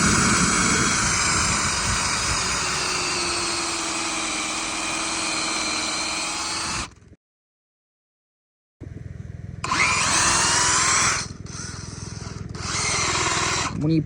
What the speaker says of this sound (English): just put your bit onto your tree here and drill a hole